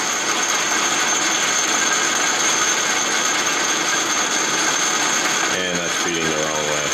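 A lathe machining an injector adapter for a 1989 Mercedes-Benz 560SEL fuel-injection conversion grinds and whirs steadily up close, and a voice speaks over the cutting near the end.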